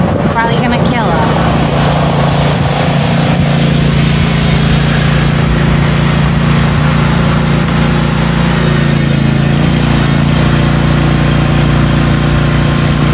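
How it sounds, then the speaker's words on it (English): A new riding lawn mower engine runs steadily nearby, a low continuous rumble with a slight dip in pitch late on, while people talk over it. "getting our new lawnmower"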